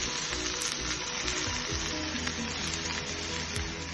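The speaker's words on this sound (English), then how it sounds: "we're going to add the ground beef with the onions to give it more flavor" Ground beef and onions fry in hot oil with a dense, steady sizzle that stays loud and constant throughout, close up and without talk.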